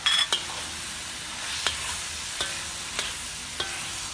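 Meat, tomatoes, fish balls and fish tofu frying in a wok for spicy mamak mee goreng, a steady hiss with sharp clinks of a utensil scraping the wok at irregular intervals.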